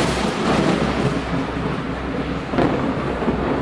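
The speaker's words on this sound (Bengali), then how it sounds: "বাইরে তুমুল ঝড় বৃষ্টি" A heavy thunderstorm roars outside with dense, steady rain and low rumbling thunder, loud and continuous, with a slight swell partway through and no voices.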